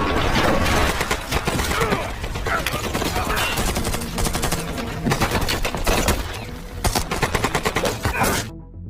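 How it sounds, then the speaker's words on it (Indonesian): Dense gunfire from an action film shootout rattles in rapid, overlapping bursts for several seconds, loud and continuous, with someone talking over it. "langsung menyerang mereka, hingga terjadilah aksi baku tembak sengit"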